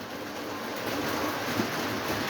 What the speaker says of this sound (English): We have a steam locomotive 8-wheeler come around the roundhouse here.